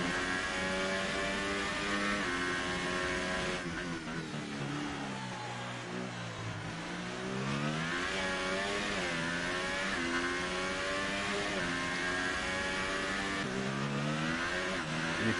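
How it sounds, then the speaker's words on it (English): Ferrari Formula 1 car engine at the Circuit of the Americas giving a distinct raspy growl as it downshifts under braking, pitch stepping down and rising again as the car passes, fairly loud and steady throughout with no talking. "Give that growl, that very distinct growl from the Ferrari. Hear it coming down here in the braking zone."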